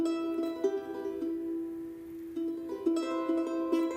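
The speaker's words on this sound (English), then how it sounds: "the guitar stuff went from the virtual version here" Plucked virtual guitar notes ring out in a steady melodic line, clean and sustained, with a fuller chord section toward the end, from a video game soundtrack.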